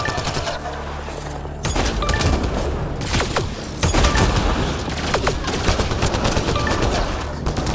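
Gunfire rattles in a Mass Effect: Andromeda combat scene, with dense rapid bursts and sharp booms layered over loud game noise, continuing steadily throughout.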